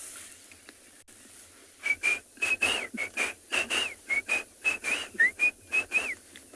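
A Shelley's francolin calls at sunset on safari at Tswalu, a fairly near run of repeated whistling notes in a steady rhythm that lasts several seconds over quiet outdoor background, with no talking.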